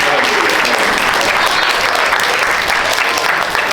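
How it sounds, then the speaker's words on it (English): Steady, dense applause from a graduation ceremony audience at CMI Preparatory School, loud and continuous throughout with no break, a full room clapping together. "Can we have another round of applause?"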